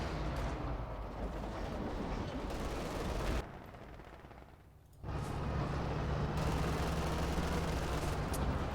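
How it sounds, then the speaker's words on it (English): Sustained machine-gun fire from a Russian MG42 firing incendiary rounds in Company of Heroes 2, dense and continuous, with a short muffled drop before the loud rattle resumes, mixed with distant battle explosions. "Pack 4 here getting caught out by the incendiary rounds of a Russian MG42."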